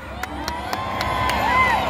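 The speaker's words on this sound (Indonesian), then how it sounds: "Mari berikan tepuk tangan" A crowd cheers and whoops at an Alor pageant event, with sharp rhythmic claps or beats cutting through about every quarter second and excited shouting building near the end.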